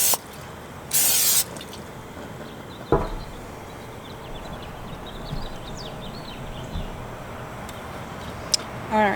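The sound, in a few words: cooking spray on chicken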